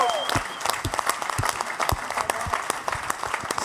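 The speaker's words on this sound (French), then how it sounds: "On l'applaudit, Mike." An audience applauds for a veteran cultural journalist, a dense, lively round of clapping heard throughout, with a whistle and a few voices rising over it.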